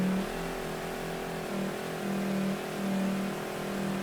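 An old car's engine in the open-world game Mafia 3 hums steadily while driving, with a mid-pitched drone that swells and eases in gentle revving surges, moderately quiet and without voices.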